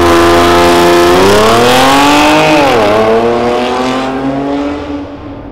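A loud, close Audi S4 engine with an Armytrix exhaust revs up, its exhaust note climbing and dipping, then settles into a droning idle that fades away.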